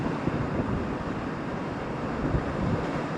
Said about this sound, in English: But obviously it's gusting as well.